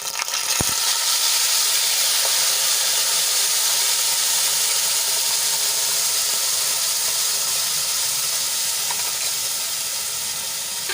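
Prepared gravy tipped into hot oil seasoned with dried red chilies, a cinnamon stick and a pinch of asafoetida, giving a loud, steady, close sizzle that hisses on without a break.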